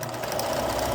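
A sewing machine runs steadily while stitching fabric binding, a continuous close mechanical whir with a fast even pulse, no talking.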